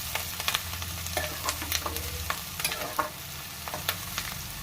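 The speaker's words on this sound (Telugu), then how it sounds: "ఇలా ఫ్రై అవుతున్నప్పుడు కొంచెం లైట్ గోల్డ్ కలర్ వచ్చే వరకు ఫ్రై చేసుకోవాలండి" Tripe fries in oil with gongura, masala leaves and curry leaves, a steady close sizzle broken by frequent scraping stirs of a spatula against the pan.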